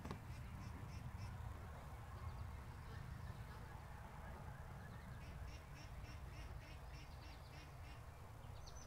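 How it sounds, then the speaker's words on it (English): Ducks quacking around a lake, faint and distant calls scattered over a steady low rumble of wind or water, with no close voices. "some ducks are playing in the water"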